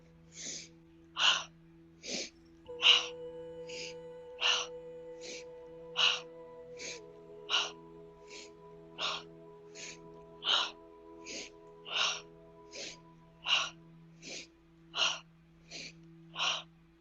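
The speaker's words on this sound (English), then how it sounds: "breathe in through the nose, out through the mouth" Slow, regular breathing during a yoga practice, in through the nose and out through the mouth, repeats as about twenty evenly spaced soft, breathy puffs over quiet sustained background tones.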